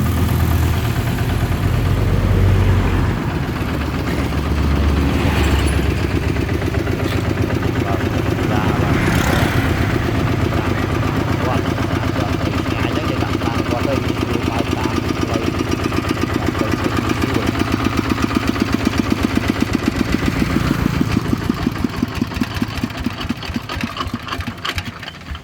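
Kubota ZT155plus 4WD tractor engine running steadily at a mid-pitched idle-like chug, loud and continuous close by, with a brief heavier rumble near the start and the sound tapering off toward the end.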